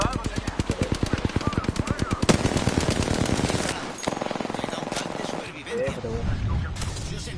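Rapid bursts of automatic gunfire from enemies in a video game shooter, stuttering machine-gun volleys that pause and resume, loud and close, with players talking over the shooting.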